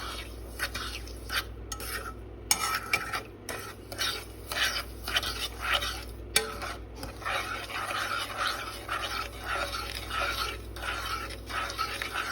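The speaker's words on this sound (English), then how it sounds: "You then want to mix and stir." Homemade sugar wax with lemon being stirred in a pot over medium-high heat, soft continuous scraping and rubbing strokes close by, fairly quiet with a steady low hum underneath.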